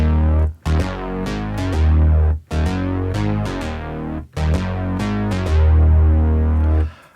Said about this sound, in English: the sort of fat bass sound